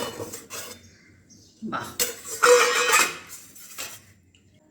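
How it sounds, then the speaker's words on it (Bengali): A metal lid lifted off a pot used for baking an eggless cake on the stove, giving a short scraping, clattering cookware sound in the middle, with a brief spoken exclamation near the start. "আমরা এবার ঢাকনাটা খুলছি, দেখি কেকটা কত দূর হয়েছে"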